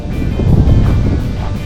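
Strong wind roars and buffets the microphone in a continuous low rush, loud and close, beside a 400-year-old ginkgo tree at a village entrance in a traditional hanok village.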